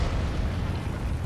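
A loud, sustained rumbling blast in Elden Ring with dense low-end roar, steady throughout like a game explosion.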